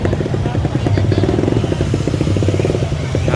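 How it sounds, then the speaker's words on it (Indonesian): A motorcycle passing along a busy festival street in Pariaman, Indonesia, buzzes steadily close by, a rough low drone that holds for a few seconds. "Ada motor yang lewat"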